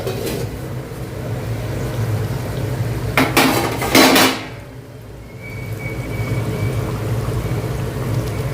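A lid lifted off a pan of lotte (Bombay duck) fish cooking on the stove, giving a pair of sharp metallic clatters over a steady simmering hiss, then a quieter ongoing sizzle.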